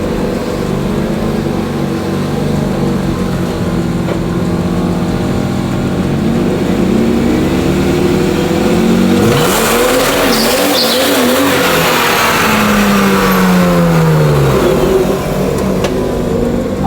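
Car engine revving hard through a burnout, loud and close, with rising and falling engine pitch, a sharp rev surge midway and tire squeal mixed in.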